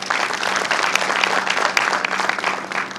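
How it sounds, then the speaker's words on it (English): Audience applause in a hall at the inaugural session of the Global Tech Summit Goa 2024, sustained and fairly loud, with dense overlapping clapping and a few sharper claps across the stretch. "So he needs a big applause for that."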